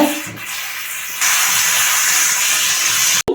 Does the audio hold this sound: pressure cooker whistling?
yes